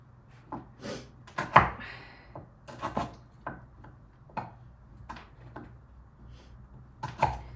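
A knife chops celery into small cubes on a board, giving irregular, crisp taps spaced out over several seconds, close and fairly quiet with no talking.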